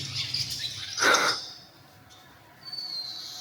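Nesting birds at a ruined Byzantine church in Northern Cyprus, one loud burst of chirping calls with fainter high calls before and after, no voices.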